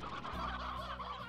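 Chickens in the video game Slime Rancher give a brief, quiet burst of gobbling, clucking calls, heard alone.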